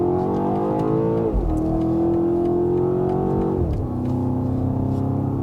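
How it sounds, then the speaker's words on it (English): A 2024 BMW X5 M Competition V8 with exhaust valves open revs loud and close, its engine note climbing through gears with two abrupt shift drops and a steady deep drone between, no talk. "the valves really open up and you get to enjoy the sound, the beautiful sound of the V8 engine"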